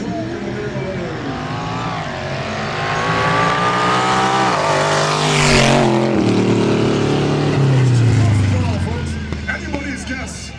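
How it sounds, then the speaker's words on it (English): A 1931 Ford Roadster with a flathead four-cylinder engine races past at a vintage drag event, its engine note loud and rising as it nears, peaking mid-pass, then falling away while a voice talks over it. "1931 Ford Roadster with that flathead 4-cylinder."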